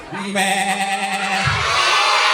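A person imitates a goat with a long, wavering bleat held for over a second, then a lower grunting tail, close to the listener.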